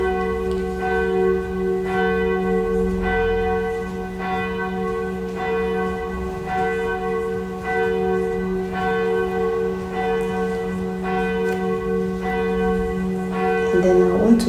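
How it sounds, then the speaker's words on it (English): A church bell tolls steadily in a slow, regular rhythm, its sustained ringing tones layered and continuous, fairly loud and close, with no one talking over it. "This church bell."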